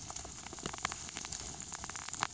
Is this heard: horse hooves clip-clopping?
no